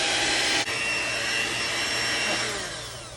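An electric mixer whisks meringue while hot sugar syrup at 230 degrees is poured slowly down the side of the bowl, giving a steady, loud whirring hum with one brief dip early on and no talking.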